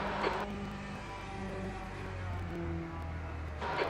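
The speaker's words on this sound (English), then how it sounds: "There's a car approaching." A race car in the sim racing game Le Mans Ultimate approaches with a steady low engine drone and rising harmonic tones, holding a fairly even level throughout with brief brighter bursts at the start and end.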